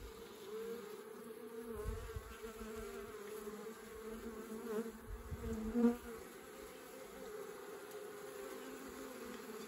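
Honey bees buzzing inside a mini mating nuc, a steady faint drone with a few closer passes swelling briefly, no talk.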